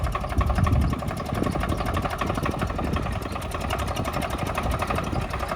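A farm tractor's engine runs steadily and loudly up close in a field, with a continuous chugging, knocking rumble throughout and no voices.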